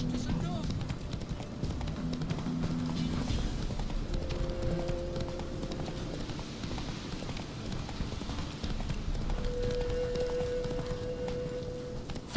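A horse gallops in The Witcher 3, rapid hoofbeats clip-clopping steadily throughout under game ambience, with a spoken voice briefly over it.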